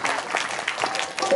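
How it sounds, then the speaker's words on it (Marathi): Brief, dense clapping from an audience at a Satyapal Maharaj saptakhanjari kirtan, a busy patter of many hands heard up close, with a faint trace of a voice near the end. "टाळ्या."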